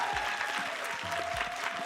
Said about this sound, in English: Huge round of applause for guests.